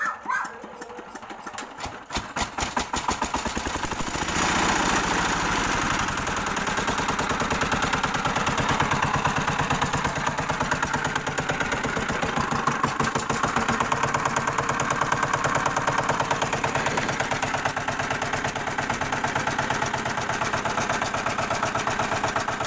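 A D8 tractor engine starts and settles into a steady, loud, rapid diesel chugging, running continuously up close for over twenty seconds in a repair setting.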